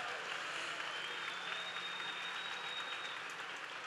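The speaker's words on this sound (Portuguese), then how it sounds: "Palmas para nós." An audience at a panel discussion bursts into sustained clapping, a dense, even wash of many hands that holds steady throughout without any voices on top.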